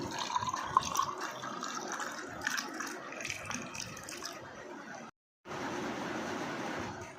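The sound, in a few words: pouring lemon water into a glass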